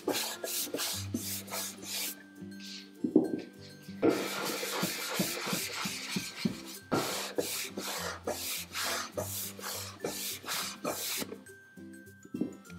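A brush applies soft chalk paint wax onto furniture in repeated short, bristly swishing strokes, close and fairly loud, with a steady back-and-forth rhythm.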